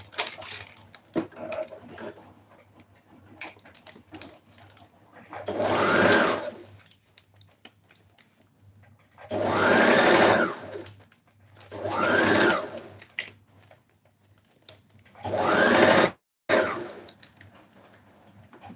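A sewing machine stitches a corset made from plastic bag material in four or five loud bursts of rapid whirring, separated by pauses filled with quiet handling and rustling.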